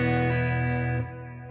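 Electric guitar plugged straight into the amp with only a delay effect and no boost: a sustained chord rings out clean, then drops a little in level and keeps ringing with soft repeats trailing behind.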